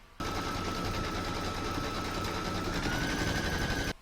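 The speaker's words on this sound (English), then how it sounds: "I'm just going to pop my hoop in there now and stitch round number 1" Computerised embroidery machine stitching the outline round on hooped stabiliser for an in-the-hoop project, a steady rapid mechanical chatter with a constant whine running loud and uninterrupted throughout, no talking.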